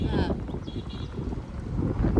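Wind blowing across people sitting outdoors on a farm at sunset, a rough low rumble buffeting the microphone in uneven gusts, with voices talking faintly underneath.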